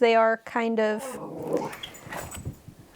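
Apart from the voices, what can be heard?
dogs growling in the background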